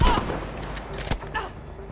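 A short burst of gunfire from a weapon in Battlefield 5, a few sharp shots, close and fairly loud, over busy game background noise.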